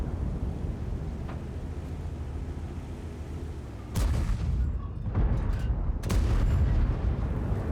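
A tank's main gun fires in World of Tanks, several heavy booming blasts landing a second or so apart over a constant low rumble of engine and wind, with no talking.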